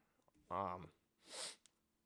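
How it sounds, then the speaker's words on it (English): A man sneezes near the microphone: a short voiced intake builds into one sharp, breathy burst of air, followed by a faint click, all fairly quiet against near silence. "I gotta sneeze"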